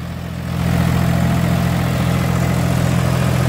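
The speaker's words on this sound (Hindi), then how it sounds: "देखो पहले गियर में दोनों लीवर फुल डाउन है, लेकिन ट्रैक्टर कहीं से टस से मस ना हो रहा" A tractor engine labouring under heavy load in first gear with both levers fully down while the machine barely moves, a loud, steady low droning rumble that swells in the first half second then holds constant, with no talk.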